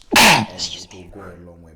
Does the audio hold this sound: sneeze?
yes